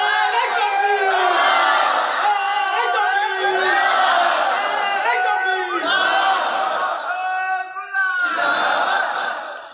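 A large crowd at a Bengali religious sermon chants the takbir in loud, unison shouted waves, several rising and falling calls in a row, filling the whole stretch.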